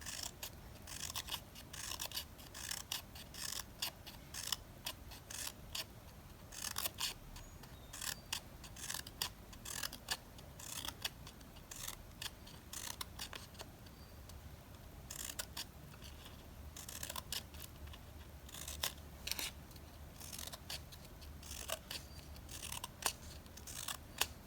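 Scissors snip slits into fringe material for a handmade witch's broom, making quiet, rapid repeated crisp cuts close by with short pauses, faint against a soft room background.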